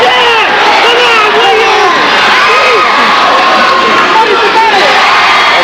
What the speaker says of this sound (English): If I'm yelling, folks, it's because the crowd here is very loud.